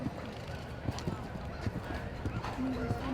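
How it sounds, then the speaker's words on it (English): Horse hooves clip-clop steadily across a showjumping arena at an international CSI 3* event, a young rider keeping a headstrong horse in rhythm; the footfalls come as soft repeated thuds beneath an ongoing commentator's voice. "She's got this horse in a lovely rhythm"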